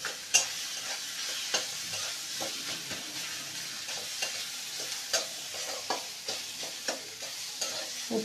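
Coconut and green chilli filling for stuffed kakrol stirred in a hot pan, a steady low sizzle broken by regular scraping strokes of the spoon, about a dozen in eight seconds, close and alone with no voices.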